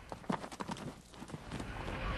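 Hooves of an Arabian horse clip-clop on a steep country trail, a series of uneven, fairly close thuds that come in an irregular walking rhythm over the low outdoor noise.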